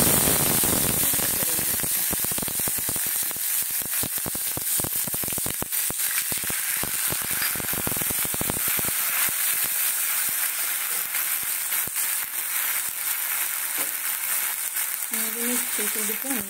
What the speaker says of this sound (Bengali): কড়াতে ফোড়নটা দেবো।